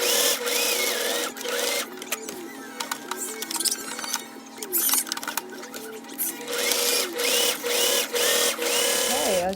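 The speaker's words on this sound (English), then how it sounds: "draw a line right down the middle and sew 2 lines right here" A sewing machine stitches two lines down the middle of a circle bag's pocket, running in repeated rapid mechanical bursts with short pauses between runs, close and clear.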